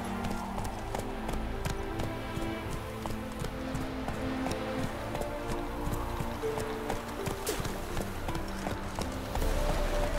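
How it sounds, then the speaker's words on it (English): Roach the horse gallops in The Witcher 3: Wild Hunt, a steady rapid clip-clop of hooves running under game music, fairly close and continuous throughout. "Run, Roach"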